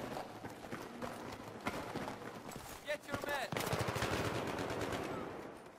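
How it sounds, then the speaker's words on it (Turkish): Gunfire from the video game Battlefield 3, with rapid automatic bursts and dense repeated shots throughout, heaviest in the second half, mixed with frantic in-game chatter. "Arkadan sıkıyorlar, arkadan sıkıyorlar."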